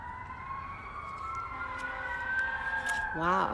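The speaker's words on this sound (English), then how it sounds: "We have some sirens going on." Emergency vehicle sirens wail at a distance, a steady high tone that later breaks into a quick warbling yelp. Road traffic rumbles underneath, and a voice briefly exclaims near the end.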